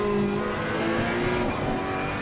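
A race car in the racing game Assetto Corsa Competizione slides under power, the engine droning and shifting pitch while tires scrub and squeal, a steady loud mix with no talking.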